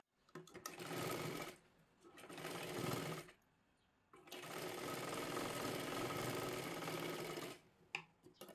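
A sewing machine stitching a katori blouse runs in three close bursts, two short and one longer, of fast rhythmic needle clatter separated by brief pauses, ending with a few small clicks.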